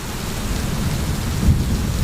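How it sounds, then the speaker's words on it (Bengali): Heavy rain pours down steadily in a dense, close wash, used as a storm effect in a Bengali audiobook. A low thunder rumble rolls underneath throughout, with no voices. "অন্ধকার রাত, অঝরে পড়ছে বৃষ্টি।"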